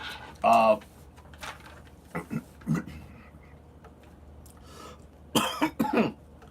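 A few brief coughs at the start, then a louder cluster of quick coughs near the end, with quiet pauses between.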